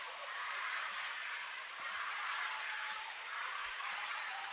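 A crowd in an indoor arena cheers for Japan at a wheelchair rugby match between New Zealand and Japan, a steady, faint, distant roar of voices with gentle swells and no close speech.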